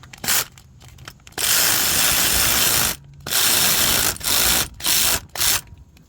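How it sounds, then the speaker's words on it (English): An electric wrench tightens the belt tensioner while a serpentine belt is changed on a third-generation Mitsubishi Eclipse, giving loud, close bursts of whirring ratcheting: a short blip, a long run of about a second and a half, then several shorter pulses. "So I have my electric wrench here, and since I have electric wrench, you got to go very slowly."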